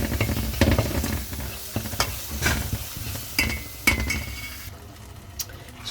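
Tomato paste stirred into onions, ginger and garlic with cooked spices in a pot for chakalaka: a low steady sizzle broken by repeated scraping stirs and spoon clinks against the pot, close and clear, no talking.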